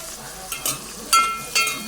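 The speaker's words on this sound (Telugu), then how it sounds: "ఇలా దోరగా వేగేలా వేగించుకోండి బాగా వేగాలి అంటే బాగా అంటే గోల్డ్ కలర్ వచ్చే వరకు" Small tomato pieces, green chilies and curry leaves frying in a pan for tomato rice, a soft close sizzle broken by a few short crackling bursts.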